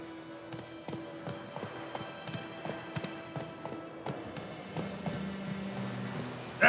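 Hooves of the horse Roach clip-clopping in a fast, regular rhythm as it gallops in The Witcher 3, with a faint whinny near the end and no talking.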